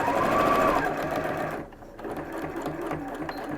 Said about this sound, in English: We're going to sew to the edge.